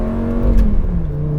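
Lamborghini Gallardo Spyder V10 exhaust heard from inside with the top and windows up, a muffled steady engine drone that dips in pitch slightly as revs ease, loud and close with no talk.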